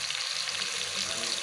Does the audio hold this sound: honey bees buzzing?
no